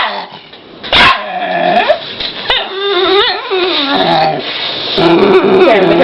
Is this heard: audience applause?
no